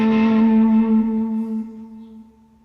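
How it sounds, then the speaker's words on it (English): A single sustained electric guitar note rings out with fuzzy distortion, smeared by muddy delay repeats and reverb as it slowly fades. "So it sounds quite horrible that the delays sound kind of fuzzy and a bit muddy."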